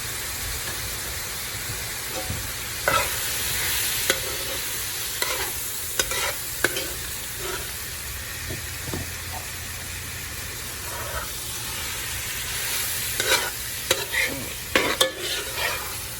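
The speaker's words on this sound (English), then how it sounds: "Stir the pork in with the onions." Pork and browned onions are stirred in a pot for jambalaya, giving a steady frying sizzle with repeated scraping stir strokes and clanks throughout, close and moderately loud, with no talking.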